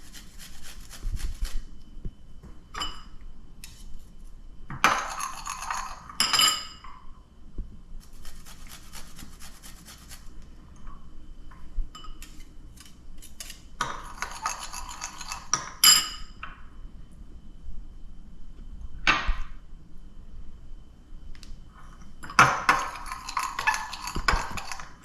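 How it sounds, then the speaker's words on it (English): A knife minces ginger and green onions on a cutting board, bursts of rapid rough chopping scrapes separated by short pauses, close and alone with no talking. "I'm gonna do a little bit of minced ginger and just a few green onions."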